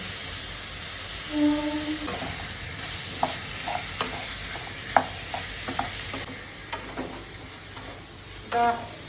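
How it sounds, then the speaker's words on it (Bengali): Potatoes fry in a pan with chopped onion, turmeric, chili powder and salt, a low sizzle broken by repeated spatula scrapes and taps against the pan at an uneven pace. "ভাজা হোক আলুটা সঙ্গে মশলাটা"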